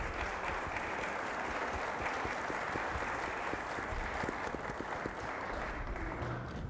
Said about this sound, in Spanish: Y un aplauso, por favor